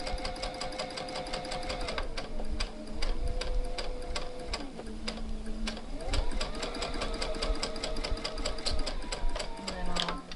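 A sewing machine stitches a curve in fabric, its needle ticking in fast even bursts with short pauses between runs of varying speed, while a person talks quietly.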